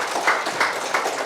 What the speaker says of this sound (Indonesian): Tepuk tangan dulu dong buat PTBS.